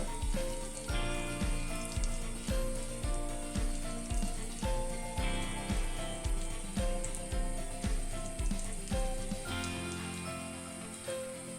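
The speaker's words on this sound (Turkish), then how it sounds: "şimdi hamurumu döküyorum içine" Æbleskiver batter poured into a hot, oiled cast-iron pan: soft, regular clicking taps roughly every half second over a steady sizzle, close and moderately loud, fading toward the end.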